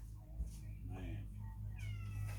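Several clear cat meows, some drawn out and wailing, ring out indoors over a steady low hum, with a person's voice in between.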